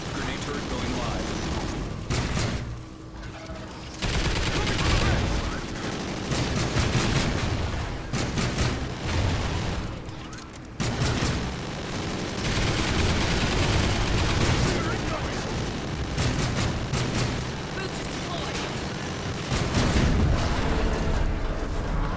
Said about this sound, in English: Grenade turret going live.